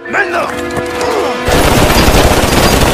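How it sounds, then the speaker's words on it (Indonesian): A sudden burst of rapid gunfire in a film battle between French special forces and Taliban fighters erupts after a moment of tense, tonal sound, the shots dense and loud like a sustained fusillade. "langsung menyerang dengan tembakan yang mendadak"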